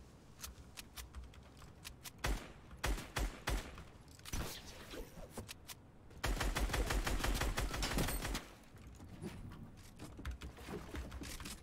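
Video game gunfire in a solo arena match: bursts of rapid shots and single cracks in clusters, fairly quiet, with short gaps between volleys.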